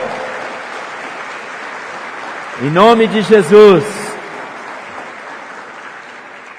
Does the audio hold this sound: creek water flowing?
no